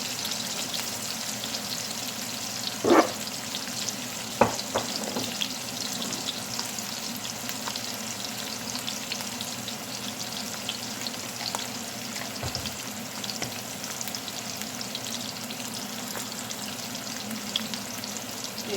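Masala chicken fries in a pan with a steady, close sizzle that holds throughout, marked by a few sharp clinks and stirring knocks, with nobody speaking.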